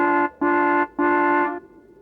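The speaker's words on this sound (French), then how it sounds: "Oui-Oui s'arrêta devant l'atelier et klaxonna très fort." Three honks from a small toy car horn, two short and one longer, loud and close, then a quiet tail.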